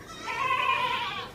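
A single goat bleats loudly and close by, one drawn-out quavering call lasting about a second, with no talk over it.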